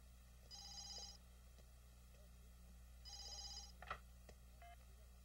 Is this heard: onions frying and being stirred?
no